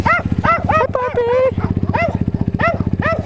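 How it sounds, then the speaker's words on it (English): Dogs barking and yipping close by in a repeated, excited rhythm, over a steady low engine hum. "Oh man, the dogs came back here."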